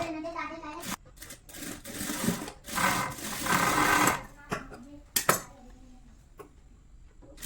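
Sewing machine stitching the side joints of a blouse, running in short bursts of rapid whirring with clicks and pauses between, close by and moderately quiet.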